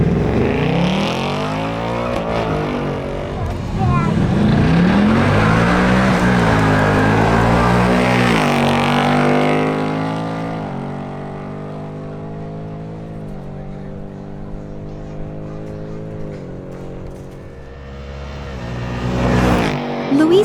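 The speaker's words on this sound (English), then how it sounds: "Next, Luis Velez in his Ford Mustang GT makes another run." A Ford Mustang GT on a drag race run roars loudly, its engine climbing through rising revs with gear changes, then fading and swelling again near the end.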